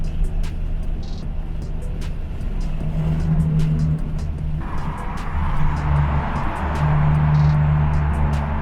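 A loud Ford Falcon F6E engine rumbles and revs nearby, droning steadily with rising and falling throttle, plus faint clicking and background noise.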